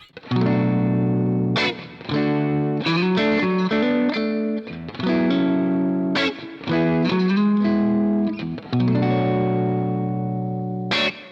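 An electric guitar breakup tone through an Axe-Fx, lightly driven and effected, plays a series of ringing chords and picked phrases in bursts with short pauses between, close and clear with no talking.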